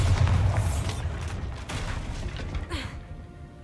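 Bombarda blasting spell in Hogwarts Legacy: a deep booming blast at the start that rumbles and fades over a few seconds, with faint creaking debris toward the end.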